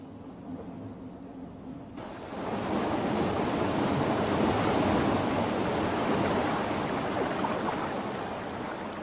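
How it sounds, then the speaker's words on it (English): Water spills over a small waterfall into the stream below, a steady broadband rush that swells louder after a couple of seconds and holds as a continuous close roar, with no voices. "As water flows over this fall, it carries some air with it into the stream below."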